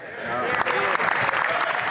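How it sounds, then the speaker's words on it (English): An audience at a Canadian government dental care plan announcement claps in a dense, steady burst of applause, with voices audible underneath. "Hear, hear, they say, and they all get clapping."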